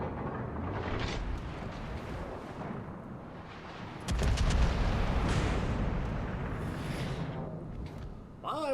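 Naval guns firing in the warship battle game World of Warships, a dense rumbling roar of shellfire with a heavy boom midway that swells and fades, under a continuous low wash of sea and engine noise.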